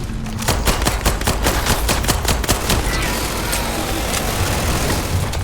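Rapid bursts of gunfire from a new gun in the video game Starfield, a quick run of sharp shots for about two seconds, then a steady dense roar of action and noise.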